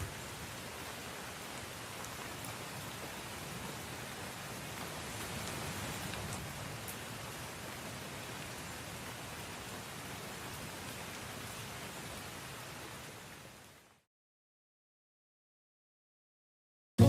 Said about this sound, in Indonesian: Sambil menunggu hujan reda, kita akan bersantai dulu dan juga meneduh di sini